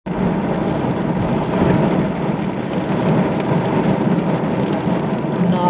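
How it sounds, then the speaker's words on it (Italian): Heavy rain falling steadily outdoors, a dense, loud, continuous hiss and patter with no pauses and no voices. "non lo farò, perché proprio piove tanto"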